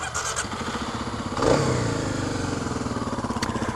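A Kawasaki KLX 250 motorcycle on its stock exhaust starts with a brief crank and catch at about one and a half seconds, then settles into a close, even, pulsing idle.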